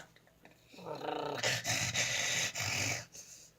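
A person imitates a dog's growl with the throat, producing a rough, rumbling rasp that swells in several bursts with brief breaks, close and fairly quiet.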